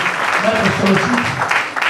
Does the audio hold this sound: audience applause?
yes